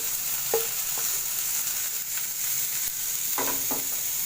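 Onion and tomato sauté in a pan for egg kothu chapati, a steady close sizzle with a few soft spoon strokes and scrapes against the pan, no voices.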